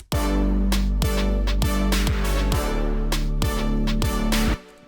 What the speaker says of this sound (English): The chords aren't really chords, they're kind of just like drony.